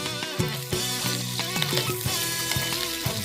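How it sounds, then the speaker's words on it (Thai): Fresh chilies sizzle as they fry fairly hard in a hot pan, a dense steady crackle with scattered pops and occasional clinks, close and moderately loud. "พริกสด แล้วก็ทอดไปแรงนิดหน่อยนะ"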